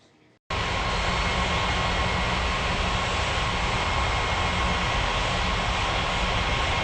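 A DHL jet airliner rolls for takeoff on the runway, its engines bursting in suddenly after a brief quiet moment and then holding a loud, steady, broadband roar to the end with no voices.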